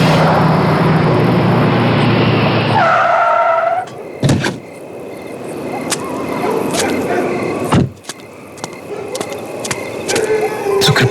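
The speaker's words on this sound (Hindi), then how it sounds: "तो कृपा की गाड़ी है।" A car pulls up, its engine rumble fading as it stops, followed by a door opening and closing and sparse footsteps and knocks outdoors.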